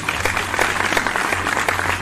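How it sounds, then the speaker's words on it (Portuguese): Steady applause from a crowd, many hands clapping densely over a low background hum. "Vai levar aplauso."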